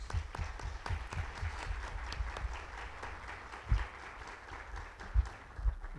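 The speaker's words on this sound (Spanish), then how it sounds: "con un caluroso aplauso" Audience applause welcoming a speaker at a human rights lecture in Mexico, a moderate patter of clapping with a few louder claps standing out, somewhat distant.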